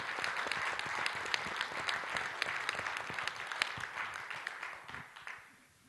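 Audience applause for a man named Vernon, many hands clapping steadily at moderate volume before fading out toward the end, with no voices over it.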